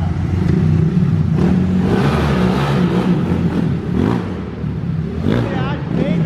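A Honda Titan 160 motorcycle bored to 225cc with a larger piston and a loose test exhaust revs hard up close, its engine note rising and falling in repeated surges while people talk over it.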